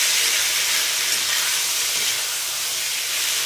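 Tomato sauce and soy sauce lightly frying in a pan, a continuous bright hiss and sizzle held at an even level from start to finish, with no voices.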